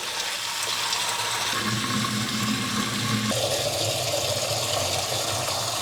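Tap water pours steadily into a clay water pot, a continuous rushing splash whose pitch rises in distinct steps as the pot fills, loud and close with no talk.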